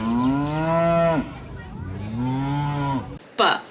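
A cow gives two long, loud, drawn-out moos close by, each one bending down in pitch at the end, followed by a short noisy burst.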